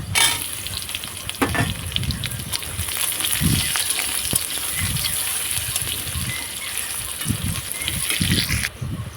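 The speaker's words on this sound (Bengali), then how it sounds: "পেঁয়াজটাও ভাজা হয়ে গেছে" Chopped onion frying in a pan alongside whole garlic, a steady close sizzle with repeated scraping stirs throughout.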